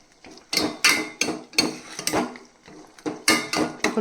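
A spoon scrapes and knocks against a pot while carrot halwa made with jaggery is stirred together with thickened milk, in a series of sharp, close metallic strokes at an uneven rhythm.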